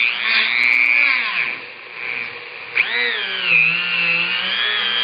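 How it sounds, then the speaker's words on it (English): A Dremel rotary tool fitted with a polishing attachment whines steadily at high speed, dipping and recovering in pitch as it loads against a shotgun part, close and continuous. "this is a neat little attachment for the Dremel that came with the gift Dremel kit. I'm going to see how that works."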